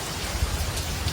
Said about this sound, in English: It's raining, there's some thunder